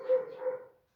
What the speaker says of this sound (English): Excuse the dog barking there.